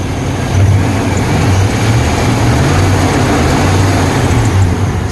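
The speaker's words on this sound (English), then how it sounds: "You can rev it up a little bit," A longitudinal 5-liter V8 in a 1998 Chevrolet Silverado C/K Sportside pickup runs steadily with a low, fairly quiet engine hum, rising slightly as it is revved a little, with no talking.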